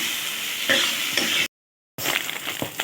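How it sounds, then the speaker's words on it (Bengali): Water hits a pan of browned, sizzling masala, and a loud frying hiss with stirring scrapes follows. The sound breaks off into a half-second gap, then the bubbling sizzle returns. "এবার আমি জল দিয়ে দেবো।"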